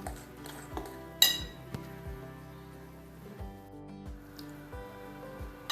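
A spoon mixes ginger, garlic and garam masala in a bowl, giving quiet, rhythmic clinks and scrapes against the bowl with one sharper knock.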